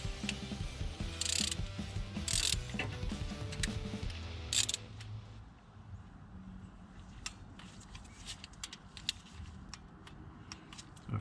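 Rocker arm bolts being tightened on a Cummins 5.9 engine in a 2003 Dodge 3500 rebuild, a close, fast ratchet clicking that later turns into slower, sparser ticks.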